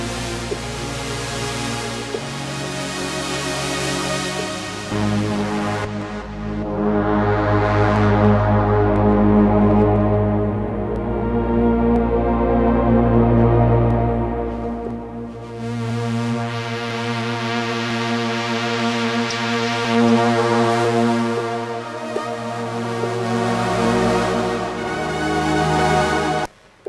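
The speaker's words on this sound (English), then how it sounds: "So let's have a listen again to the Muse." A Moog Muse analog synthesizer plays a sustained, harmonically rich patch with thick low bass notes and bright upper layers, loud and continuous, shifting chords around the middle and end, with no talking.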